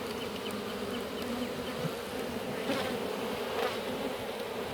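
Honey bees hum steadily around a hive, a dense, even buzzing close by with no voices.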